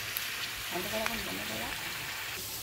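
Radhuni, dried red chillies, green chillies, bay leaves and panch phoron sizzle in hot oil, a faint, steady crackling hiss with a brief clatter and a voice in the background.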